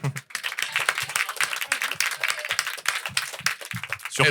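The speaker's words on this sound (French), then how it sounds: "ça on applaudit" A crowd claps and cheers at a lively evening event after a vote result is announced, busy uneven applause mixed with voices and shouts, fairly close and continuous.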